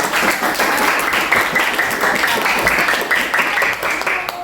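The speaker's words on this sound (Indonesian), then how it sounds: "Berikan tepuk tangan dong pada Gendis ya." Students in a classroom clap for a classmate, giving dense, continuous applause that holds steady from start to finish with no voices standing out.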